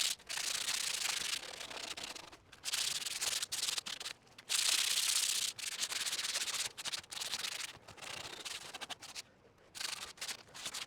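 Wood sanded by hand outdoors in a yard, bursts of close, harsh rasping strokes separated by short pauses, uneven in length, with no talk.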